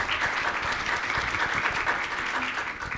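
Audience applause at a national conference of state health surveillance coordinators fills the hall, a steady dense wash of many hands clapping at moderate level with no voices over it.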